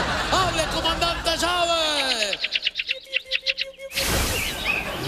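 Bird chirping sound effect in a Venezuelan comedy sketch, a quick run of bright tweets and whistled rising chirps mixed with voices, followed by a staccato rattling burst and then crowd noise.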